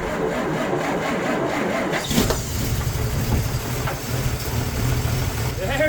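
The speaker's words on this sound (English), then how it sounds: "Definitely cranking a little weaker, although it is much colder today." A 1954 Plymouth Savoy engine cranking on an old starter in below-freezing cold: steady, somewhat weak rhythmic cranking that shifts to a running, idling engine hum, with someone talking over it.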